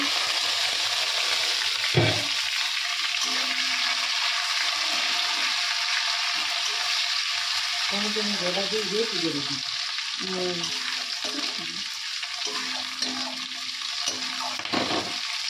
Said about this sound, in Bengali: আর এখন তেলের উপরে পেঁয়াজ বাটাটা দিয়ে দিয়েছি